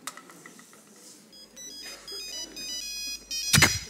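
A telephone rings with a bright electronic ringtone, repeated tonal bursts growing louder, ending in a sharp loud clatter; faint voices are heard underneath.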